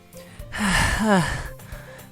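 A character panting in the visual novel Doki Doki Literature Club, a couple of breathy, gasping inhales and exhales heard over a low background music bed, close and moderately loud.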